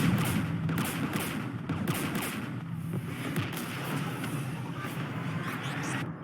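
Sustained barrage of gunfire and anti-aircraft guns in Mass Effect 3 near a Geth jamming tower, dense rapid reports and booms rolling continuously over a loud rumbling battle bed, no voices.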